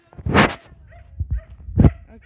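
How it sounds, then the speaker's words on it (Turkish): A Kangal dog barks outdoors in a few loud, close bursts, with a strong bark at the start, softer yips in the middle and another sharp bark near the end, and no one talking. "Ama arkadaşlar cidden saldırgan bir köpek."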